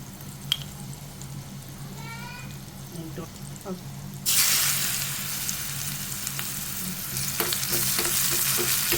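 Onion, shallots and ginger hit hot oil with mustard seeds and burst into a loud, steady sizzle after a brief quiet lead-in with a few light clinks, the frying continuing close and bright to the end.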